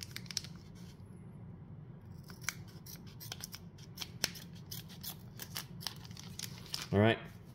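Scissors snip open card booster packs from a Peach Party box, several sharp, close clicks and short cuts spread across the stretch, ending in a louder crunching cut, with no one talking.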